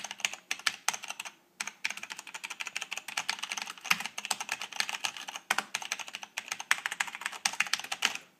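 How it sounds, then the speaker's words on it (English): Steady typing on a Compaq MX 11800 mechanical keyboard with Cherry Brown switches, a dense run of close, crisp key clacks with brief pauses and uneven rhythm, with no talking over it. "type random stuff into the keyboard and see how well it works"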